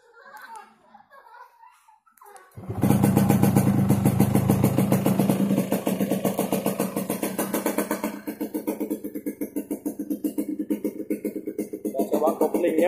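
Yamaha RX-King motorcycle engine kicks into life after a short spoken lead-in, then runs loud and close with a fast, rough, pulsing two-stroke idle that steadies and keeps throbbing to the end.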